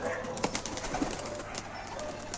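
Pigeons at a loft, soft cooing calls over a close, continuous rustle with a few short bursts that could be wings, fairly quiet and without speech.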